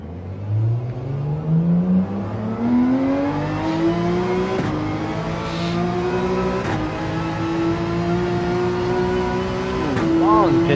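A Porsche 911 race car on racing soft tires at Daytona in Gran Turismo 7 revs loudly and climbs in pitch through several gear changes, with a brief burst of rapid revs near the end.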